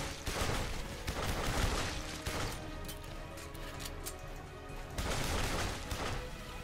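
Pistol gunfire in the video game Duke Nukem Forever comes as dense, rough bursts of shots with booming impacts and crashes. The sound is loud and continuous with no clear gaps between shots, and nobody speaks.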